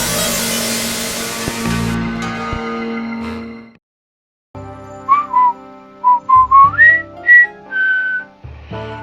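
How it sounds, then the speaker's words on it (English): A person whistles a short, wandering tune in clear, bright notes after a brief stretch of other noise and a pause, fairly close and alone. "I often whistle when I'm bored."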